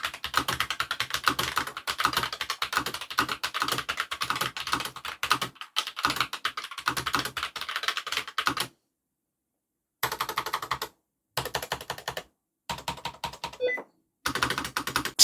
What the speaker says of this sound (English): So here's a sound test.